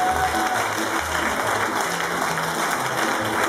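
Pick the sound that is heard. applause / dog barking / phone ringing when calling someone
applause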